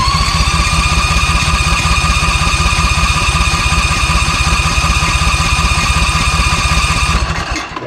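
Engine of a ZT200 zero-turn mower running steadily with a loud, even throbbing idle for about seven seconds, then sputtering and dying away at the end.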